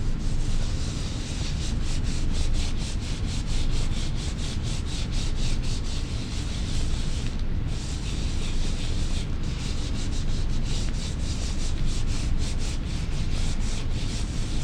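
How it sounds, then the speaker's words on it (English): Paper is rubbed by hand onto a printmaking block to pull a logo print, making a close, continuous scratchy rubbing that stays rhythmic and steady for about fifteen seconds. "I'm going to hold it with one hand and rub, getting all the corners,"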